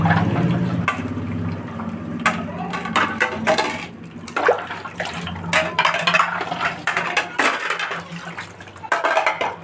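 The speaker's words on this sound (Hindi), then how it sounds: "अब मैंने पानी की बोतलें भरनी हैं और बर्तन धोने हैं" Dishwashing and filling water bottles at a tap: running and splashing water mixed with clinking pots and pans, close and continuous, with occasional louder clatters.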